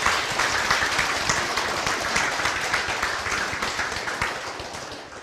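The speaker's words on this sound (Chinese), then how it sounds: "我们给在座的长者啊一个掌声" A lecture audience applauds the elderly attendees, a dense, sustained clatter of many hands close by that slowly fades over several seconds.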